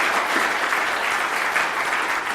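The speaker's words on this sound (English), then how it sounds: "How about a round of applause for them?" An audience applauds the panelists at an intertribal panel on King Philip's War, a loud, dense, continuous burst of clapping from many hands with no voices over it.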